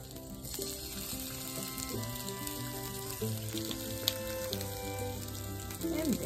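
Chopped vegetables for fish kebab sizzle in hot oil in a pan, a steady close frying hiss that runs throughout over a faint background hum.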